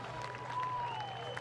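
A stadium crowd at a college football bowl game applauds and cheers steadily, with a whistle tone gliding over the noise.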